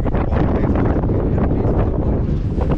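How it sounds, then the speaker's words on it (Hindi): Strong wind buffets the microphone in Hanle village, Ladakh, a loud continuous roar of gusts with no other sounds. "बहुत तेज हवा चल रही है।"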